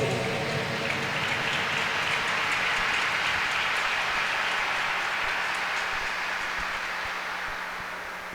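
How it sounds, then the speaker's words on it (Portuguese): Sustained applause from a large church congregation, a dense steady patter of clapping that slowly fades toward the end. "Aplauda ao nosso Deus."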